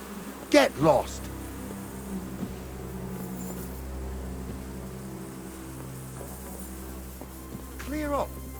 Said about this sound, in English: Get away! Those are my bees!